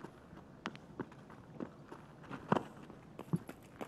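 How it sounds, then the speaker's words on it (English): Footsteps and running in a video game tap out quick, uneven, fairly faint steps over a low background, with no talking. "I hear footsteps. I hear running."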